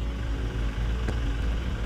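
A TJM Pro Series 12 volt air compressor runs steadily while inflating a deflated tire, giving a continuous, even motor hum with a faint rattling texture and no talk over it.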